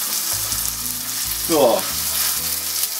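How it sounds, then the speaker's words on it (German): Entrecôte steak fries in a pan with garlic, giving a steady, loud sizzle with a brief swell of scraping as the meat is turned. A voice speaks one short word. "ich habe das Fleisch jetzt noch so ein bisschen in der Pfanne hin und her gewendet, dass es auch viel von dem Knoblaucharoma abbekommt"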